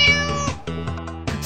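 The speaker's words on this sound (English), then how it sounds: "Everyone knows Muwakas are just kittens at heart." A Muaka creature in a Bionicle animation gives a long, plaintive kitten-like meow, with drawn-out wavering mews following closely and sounding clear and near.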